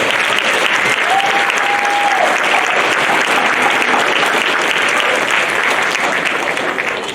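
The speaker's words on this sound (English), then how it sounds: "One more round of applause for them." A middle school band concert audience at Lewis Middle School applauds a student group, dense, sustained clapping from a large crowd that holds loud and steady throughout, with a faint voice briefly underneath.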